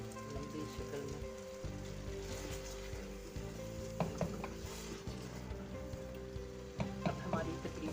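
Mixed vegetables of potato, peas, carrot and methi fry in a pan with green chilies, giving a steady soft sizzle with intermittent stirring scrapes and clatter, quiet and unbroken by talk.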